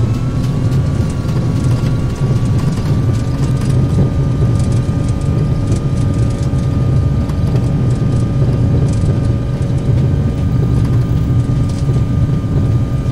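Thrust reversers roar on an Airbus A320 landing in X-Plane 11, a loud, steady broadband jet rumble with a sustained engine whine held throughout, no voices.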